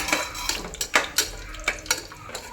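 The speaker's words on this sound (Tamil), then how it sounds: "2 பிரியாணி இலை, 2 ஏலக்காய், 2 பட்டை கிராம்பு, ஒரு அன்னாச்சி மூக்கு போட்டு நல்லா ஃப்ரை பண்ணணும்" Whole spices, bay leaves, cardamom, cinnamon, cloves and star anise, frying in oil for mutton biryani, with a light sizzle under repeated metal spoon scrapes and clinks against the pan.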